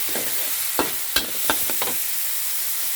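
Minced pork stir-fried in a pan, with a spatula scraping and tapping in several sharp strokes over a soft, steady sizzle and no talk.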